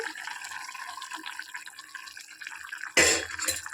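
Gram flour batter poured into a pan of puri curry made with onions, a sudden wet splash and liquid rush near the end after a stretch of low, steady simmering bubbles.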